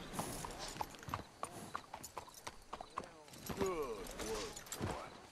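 In the Western video game Red Dead Redemption 2, horse hooves clip-clop at an uneven walking pace. Characters talk over the hoofbeats, and quieter game ambience sits underneath.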